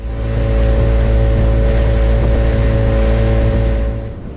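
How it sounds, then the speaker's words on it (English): Outboard engine of a small boat running steadily in cold winter weather on the Isle of Skye, Scotland, a loud close harmonic drone with wind and water noise, no talk. "The engine started cutting out a little bit."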